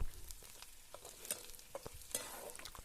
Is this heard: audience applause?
no